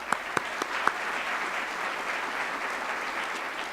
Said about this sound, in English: Let's give everybody recognized a big round of applause.